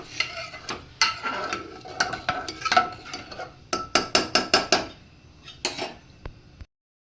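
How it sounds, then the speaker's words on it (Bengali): Pulao ingredients stirred together in a pressure cooker, a run of close, sharp scraping and clinking strokes in uneven rhythm, loud and alone before falling silent. "এবার জিনিসগুলোকে ভালো করে মিশিয়ে দেব।"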